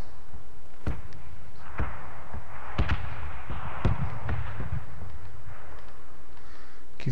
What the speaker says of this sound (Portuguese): Tô ouvindo tiros.